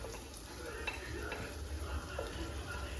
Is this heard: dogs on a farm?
no